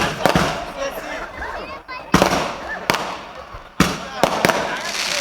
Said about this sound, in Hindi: 80 है ये, 80 पटाखे हैं एक साथ।